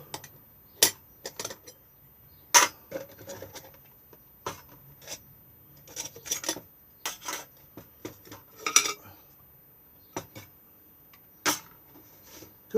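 Metal parts of a camping cooking stove clink and clatter as they are fitted together: a dozen or so sharp, separate knocks and jangles spread irregularly, close and fairly loud in an otherwise quiet space.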